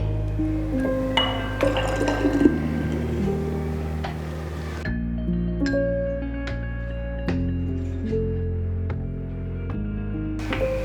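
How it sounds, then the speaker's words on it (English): Warm water mixed with yeast pours and trickles close by into a mixture, with light clinks of glass and a sustained tonal hum underneath; no one speaks. "mix the yeast with 3 tablespoons of warm water, pour it in."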